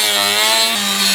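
A hand tool filing and scuffing the body of a Toyota GT86 during paint prep, a short, loud, steady rasping scrape with a droning harmonic tone and a brief change in pitch partway through.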